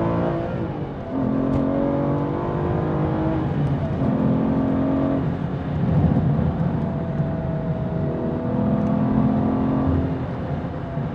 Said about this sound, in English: take it up to the red line, it rewards you with a driving experience that only this V12 Vantage can.